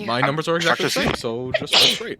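A single sharp sneeze bursts out near the end of a stretch of close indoor conversation during a tabletop role-playing game, loud and abrupt after steady talking.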